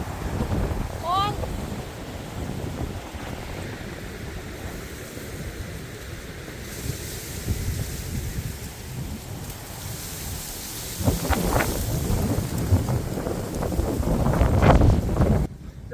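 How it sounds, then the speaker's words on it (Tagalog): Strong wind gusting loudly outdoors at Longwood Gardens in Pennsylvania, a steady roar buffeting the microphone that swells into heavier gusts near the end. "Grabe yung hangin, oh"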